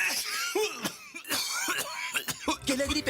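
Several sharp coughs, one after another, from a person with flu and a cough in a cold medicine advert, loud and close and set against a busy background.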